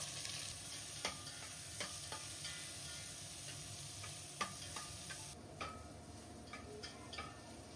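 Slit green chilies and chopped onions fry in a mix of ghee and oil for a brinjal pulao, a continuous close sizzle broken by sharp crackles and pops, and it thins out slightly partway through.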